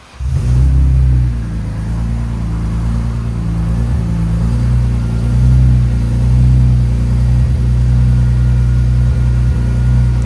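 A 1997 BMW M3 with a swapped 3.2L engine, headers, down pipes, Borla catback exhaust and aero mid resonators idles with a loud, steady low rumble, swelling in a few mild revs throughout.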